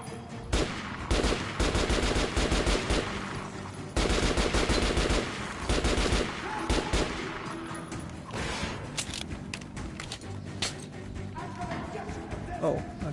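A big gun fires in Metro Last Light Redux, loud rapid bursts of heavy gunfire in long sustained volleys, then sporadic shots and explosions, close and dominant with a voice talking over parts of it.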